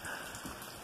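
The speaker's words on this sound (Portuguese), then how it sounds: "Tá chovendo! Eu tô tão feliz com essa chuva!" Rain falling steadily on a rural farm property, a soft continuous patter and hiss of drops, faint and even throughout the short moment with no voices.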